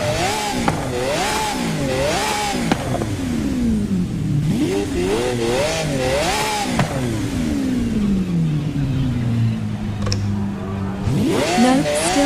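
Lamborghini Aventador SV V12 revving hard in Forza Horizon 5, repeated rising and falling engine sweeps that bounce off the rev limiter, with a long high idle-like hold between bursts, loud and close throughout.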